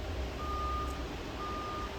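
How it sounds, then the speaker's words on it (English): A Skybox satellite receiver gives two short, thin electronic beeps, about a second apart, as it reads its firmware during installation, faint and isolated over steady background hiss. "You're going to hear a beep."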